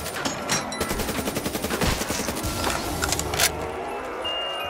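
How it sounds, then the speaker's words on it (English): Rapid automatic fire from a machine gun in Call of Duty: Black Ops III Zombies on PC, a rattling burst of closely spaced shots, loud and near, with metallic clinks and a few trailing single reports afterward. "fine looking machine gun"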